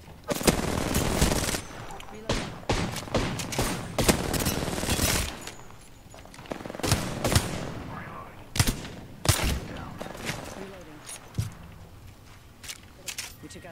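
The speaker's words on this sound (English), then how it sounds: "They're so shooting at me." Gunfire in a battle royale video game: loud bursts of automatic fire and single shots in uneven clusters, close and sharp, with quieter gaps and game effects between volleys.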